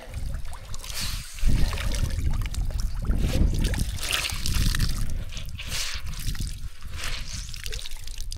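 A small stream flows beside a jungle trail on Gunung Tahan, a close trickling and gurgling of water with occasional sloshes and a faint voice in the background.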